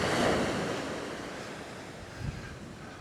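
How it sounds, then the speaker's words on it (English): Ocean surf washes in with a broad, rushing roar while gusty wind buffets the microphone, loudest at the start and easing slightly, with a small thump near the end. "so the waves are making sounds there"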